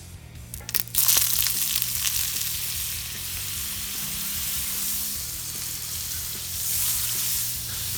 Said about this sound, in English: put on my large cast iron pan just for a few minutes, and I'll come back and I'll put a bit of oil and a bit of butter in there